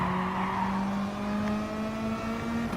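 BMW and Mazda race cars in Gran Turismo Sport, engines droning loud and close with a steady, slowly rising pitch as they hold speed, heard alone without talk.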